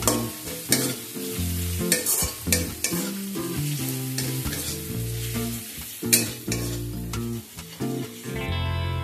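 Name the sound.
frying ginger garlic paste with onions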